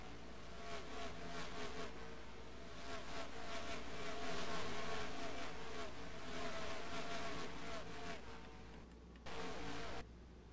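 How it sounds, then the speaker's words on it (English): Race cars in an online Indianapolis racing game roar past continuously, their engine whine loud and sustained with overlapping passes and no talk. "Let's listen to these cars fly by."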